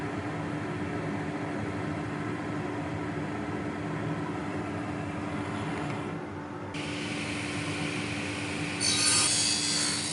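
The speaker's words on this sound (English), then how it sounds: "just a little bit of sanding" Steady, continuous rasping of sandpaper rubbed by hand on a wooden tenon saw part, close and even in level, with a brief shift in texture near the end.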